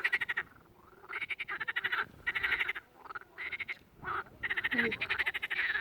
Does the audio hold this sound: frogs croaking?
yes